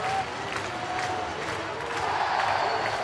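A sold-out baseball crowd roars for a Pittsburgh Pirates win over Philadelphia, with loud, sustained cheering and applause filling the stadium without a break.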